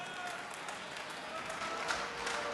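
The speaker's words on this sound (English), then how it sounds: "the crowd show their appreciation for that" A darts crowd at a professional match applauds with steady, dense clapping from a large audience, heard at a moderate distance as a continuous wash of claps.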